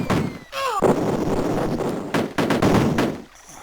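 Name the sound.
gunfire from Cannon Fodder video game on Commodore Amiga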